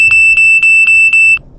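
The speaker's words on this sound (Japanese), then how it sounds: "衝突 警告。" A MINIEYE 4K-Pro dashcam sounds its collision warning alarm, five rapid, loud, piercing electronic beeps in an even rhythm that stop abruptly, with no voices.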